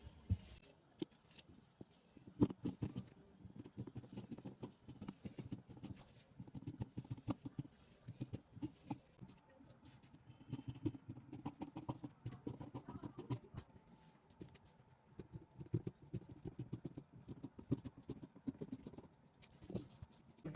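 Scissors cut through folded Ankara cotton print fabric for kids' shorts: soft, continuous snipping and crisp rustling close by, in steady irregular bursts with brief pauses, with no talking.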